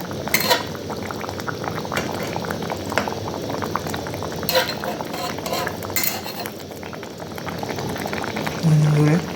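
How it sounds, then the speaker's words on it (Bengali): Rupchand fish curry made with ground cumin paste bubbling steadily in a pot, a dense, continuous boil with a few light clinks and louder surges along the way. "ঝোলটা ফুটে উঠেছে"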